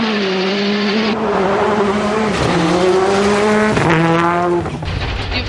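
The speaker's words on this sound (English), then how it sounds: "Drop the clutch, and then if there's good traction, you just full on the throttle" A rally car launching hard from a standstill at full throttle, engine revs rising through several gear changes with tyre squeal, loud and close.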